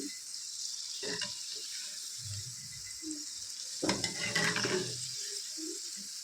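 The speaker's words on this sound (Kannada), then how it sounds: "ಸೆಕೆಂಡ್ ಟ್ರಿಪ್ ಕೂಡ ಚೆನ್ನಾಗಿ ಫ್ರೈ ಮಾಡ್ಕೊತಿದ್ದೀನಿ ನಾನು" Sliced okra (ladies finger) dry-frying in a pan until crisp, with a steady soft sizzle and two bursts of stirring and scraping against the pan; close and moderately loud, no speech.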